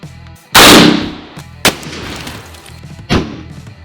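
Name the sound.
WW2 rifle shot fired at a cinder block wall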